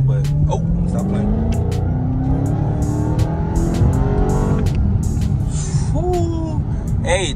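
A 2021 Dodge Charger Hellcat Redeye engine revs loudly and continuously, rising and falling in pitch up close, with a person talking over it.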